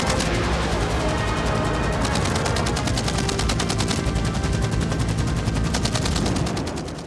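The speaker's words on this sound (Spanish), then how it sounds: "cubrían la zona de aterrizaje con fuego represivo consistente en cohetes," Attack helicopters over a Vietnam War landing zone fire rockets and cannon in suppressive fire, a loud, dense rattle of rapid automatic bursts and blasts that runs nonstop before trailing off.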